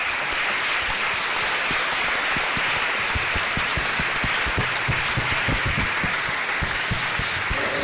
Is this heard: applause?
yes